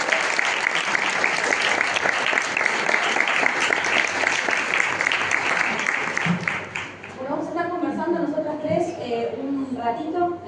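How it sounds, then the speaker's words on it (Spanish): Audience applause at a public talk with a Mexican singer, loud sustained clapping from a crowd that thins and fades in the last few seconds as a voice begins speaking over it. "Un aplauso, por favor."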